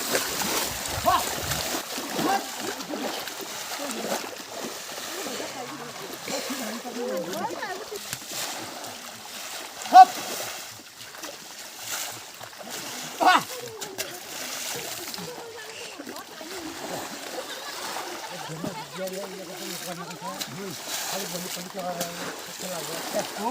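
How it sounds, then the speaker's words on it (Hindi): People splashing water on each other in a flooded rice paddy during planting in Uttarakhand, scattered splashes and sloshing heard at moderate distance under frequent chatter and voices, with a couple of sharper splashes standing out. "देखो ये काम करने के बजाय एक दूसरे के ऊपर पानी डाले हैं।"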